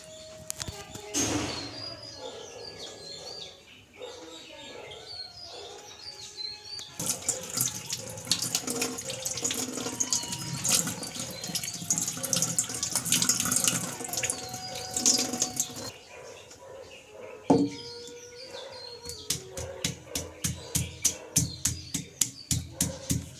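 Running tap water splashes over freshly dug turmeric root being washed by hand, with bursts of flowing water, pauses and handling noises, some faint bird calls, and rapid rhythmic rubbing near the end.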